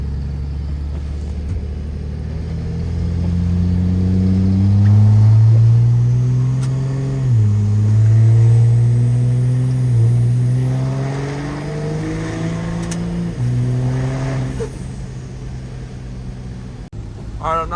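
A truck fitted with an S400 turbo revs at full throttle on tune 4, a loud, deep engine roar that swells and falls in several surges over nearly twenty seconds with a rising turbo whistle, recorded close by.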